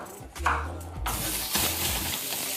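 Julienned black radish and diced apple hitting a pan over high heat, a soft thump followed by a broad, steady sizzling hiss that holds at a loud level, with a brief stir partway through.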